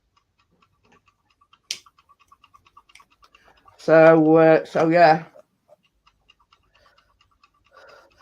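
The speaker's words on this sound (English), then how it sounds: "I bet that's your timer, Tracy. I can hear it tick-tock ticking." A kitchen timer ticking in a home kitchen during cookie baking, a faint, regular tick-tock in the background with a brief spoken remark over it.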